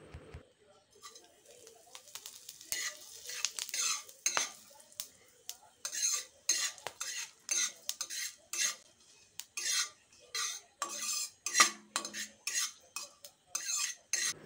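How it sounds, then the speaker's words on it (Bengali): A tempering of dry red chillies, cloves, cinnamon and cumin crackles in hot oil in a wok while a spoon stirs it, giving rhythmic bursts of scraping and sizzle against quieter gaps, close and fairly soft. "ফোড়নটা ভালো করে ভাজা হয়ে গেছে।"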